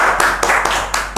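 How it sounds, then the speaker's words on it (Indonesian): A studio audience claps for a guest on a talk show about a presidential debate, with a few sharp claps standing out over a light steady patter, brief and close. "Tepuk tangan untuk Mister Puisi."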